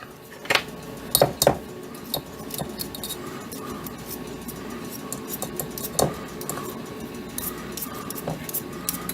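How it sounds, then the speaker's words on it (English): A fork stirs in a dish, producing scattered metallic clinks and scrapes at irregular intervals, a few sharper taps standing out over a quiet kitchen background. "stir it with a fork"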